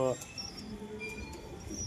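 Two newly collected pigeons give faint, low cooing with a few thin chirps, close by, while a voice briefly sounds at the start.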